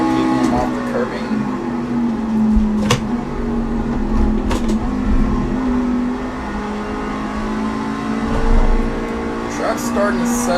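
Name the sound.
truck engine racing at Watkins Glen in a truck racing video game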